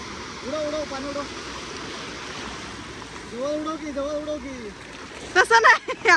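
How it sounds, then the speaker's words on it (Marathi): Water is splashed by hand at a stop on a Konkan coast bike ride, with a few quick, close splashes at the end after a stretch of steady water noise and people talking. "उडव पाणी उडव, जवळ उडव की."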